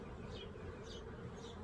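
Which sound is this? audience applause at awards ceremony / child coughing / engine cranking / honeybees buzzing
honeybees buzzing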